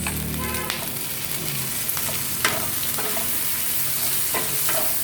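Tomatoes go into a hot pan of cooking bitter gourd (ampalaya), giving a loud, even sizzle with a few sharp clatters from stirring, close and without talk.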